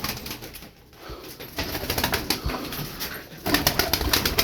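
A loft of Turkish tumbler pigeons, some given as gifts, gives soft cooing and rustling wing flaps amid a dense, busy background, with a louder burst of flapping near the end.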